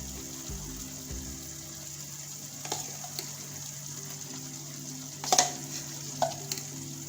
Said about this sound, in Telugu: సో ఇప్పుడు మనం ఏదైతే ఉల్లిపాయ పేస్ట్ చేసుకున్నామో ఆ పేస్ట్ దీంట్లో వేసేసుకుందాము